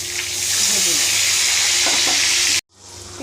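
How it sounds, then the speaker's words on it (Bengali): Onions and green chillies fry in hot oil with cumin seeds and a bay leaf, a loud steady sizzle under faint stirring that cuts out abruptly near the end, then comes back softer. "তার মধ্যে পেঁয়াজগুলো ভেজে নেব পেঁয়াজ আর কাঁচা লঙ্কা"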